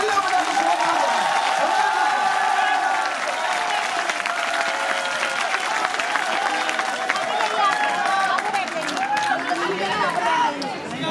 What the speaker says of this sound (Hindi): सब हाथ उठा के तालियां बजा के